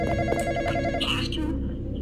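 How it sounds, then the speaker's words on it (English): Telephone bell ringing in repeated trills at a graveyard, loud and close, with voices talking over part of it. "Answer the phone."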